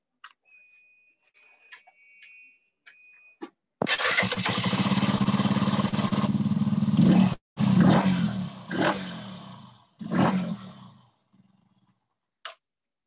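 Mini motorcycle engines start up and rev loudly at close range, a sustained roaring burst broken by short pauses and repeated throttle blips before dying away, with faint ticking before and after.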